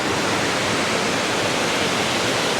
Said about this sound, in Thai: ได้ยินเสียงน้ำตกแล้วเนาะเนี่ยน้ำตกนี่ครับ